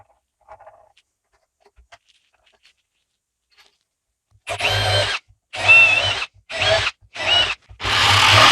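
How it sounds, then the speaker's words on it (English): A power tool cuts a hole in a car for a hidden subwoofer install, arriving after quiet handling noises as five loud, close bursts of grinding cutting separated by short pauses. "let's mark up and cut the hole"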